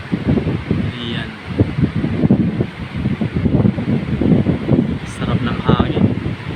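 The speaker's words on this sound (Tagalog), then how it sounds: "Napakahangin." Strong wind gusts buffet the microphone with a rough, rumbling roar near a river and bridge, while someone talks over the blustery noise.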